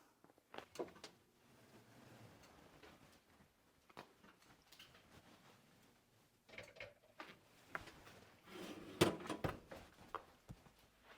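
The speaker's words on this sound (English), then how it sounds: "I'm putting my second tray in the oven" A home oven door handled as a second tray of peanut butter cookies slides inside, giving scattered quiet knocks, clicks and metallic clunks spread over several seconds, with a louder cluster of clatter near the end.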